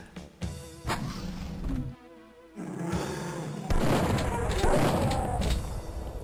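Duke Nukem 3D gunfire with bursts and booms, a brief lull, then sustained shooting and explosions, loud and close.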